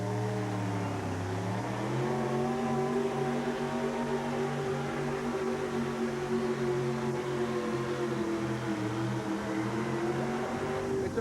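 A 4wd truck at a pulling event in Kemper Arena roars steadily and fairly distantly, its engine note dipping low at first then holding a strained, rising pitch throughout.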